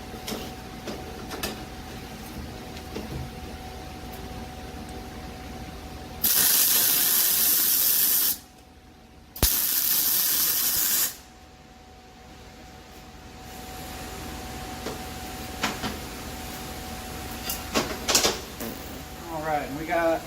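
Tack welding an exhaust flange on a Ram 5.7 Hemi exhaust: two hissing, crackling weld bursts of about two seconds each, separated by a short pause, loud over a quieter background of shop noise.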